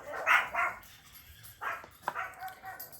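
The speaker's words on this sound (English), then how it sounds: "it's not a me video if it's not the dog barking." A dog barks a few times during a thunderstorm, sharp yips in two short bursts separated by a pause, moderately close, with rain-like background hiss.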